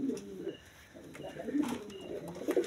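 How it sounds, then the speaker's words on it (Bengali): Kashmiri silver racer pigeons coo in soft, repeated throaty bursts close by, with a few brief chirps and low background murmur between the calls. "কাশ্মীরি সিলভার রেসার কবুতর যাদের প্রয়োজন হয় তারা অবশ্যই নিতে পারেন"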